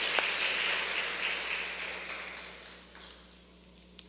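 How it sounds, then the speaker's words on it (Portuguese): A church congregation applauds in a reverberant room, the clapping strongest at first and gradually thinning out to a few scattered claps. "Dê um aplauso pela palavra de Deus, que é viva"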